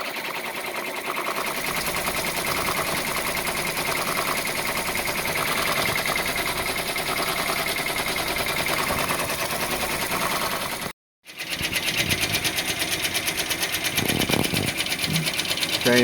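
A Brother BabyLock Venture embroidery machine stitches a border in a steady, dense mechanical whir with a rapid regular rhythm, close and continuous, breaking off for a brief instant before resuming with some clunks.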